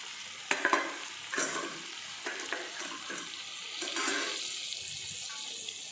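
Karaikudi-style chicken pepper chukka with coriander and curry leaves is stirred in a pan, giving soft scraping and gentle sizzling with a few sharper spoon knocks, quiet and close, with no talking.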